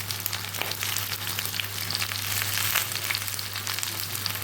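Green chilies and turmeric fry in hot oil for a vegetarian vegetable curry, giving a close, continuous crackling sizzle with a faint steady hum underneath and no talking.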